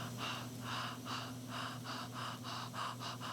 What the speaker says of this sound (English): And get a little faster, like a locomotive train.